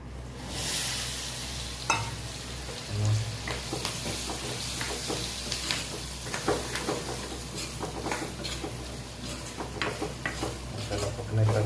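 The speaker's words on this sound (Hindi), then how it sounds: "अब इनको तेल में डाल के अच्छा भूनेंगे।" Onions with turmeric, coriander, salt and chilli fry in oil, giving a steady close sizzle with frequent stirring scrapes and clinks.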